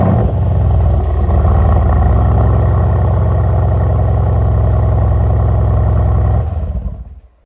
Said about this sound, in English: Now I'll start the car again.